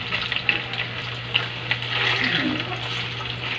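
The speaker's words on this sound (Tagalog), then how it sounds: "I-fry muna natin." Chicken pieces frying in a pan for chili garlic chicken, a steady close sizzle with a low hum beneath and a few brief clinks.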